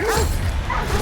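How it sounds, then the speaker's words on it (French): Dogs bark in a hunting video game, with a couple of close, loud yelping barks in quick succession over game background noise. "Putain, il y a des chiens dessus."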